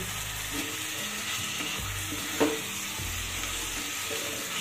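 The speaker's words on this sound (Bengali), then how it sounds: "সমস্ত মশলাটা খুব ভালো করে কষিয়ে নিতে হবে" Spice paste with salt sizzles steadily in a pan, a constant low frying hiss under repeated gentle stirring and one brief sharper scrape midway; no talking.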